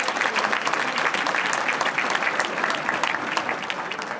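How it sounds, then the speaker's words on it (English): Steady applause from a seated audience at a high school athletic hall of fame dinner in Peekskill, a dense, continuous patter of many hands clapping that fills the room for several seconds without letting up. "Give yourselves a big round of applause for being here."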